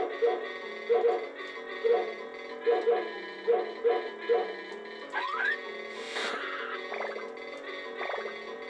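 Cartoon dog barking in the SNES game Family Dog, a series of short repeated yips in pairs over steady game music, followed by chiming sound effects.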